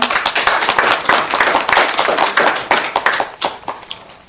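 An audience at the founding ceremony of an alternative media cooperative breaks into loud, dense applause to welcome a speaker, sustained for several seconds before thinning out.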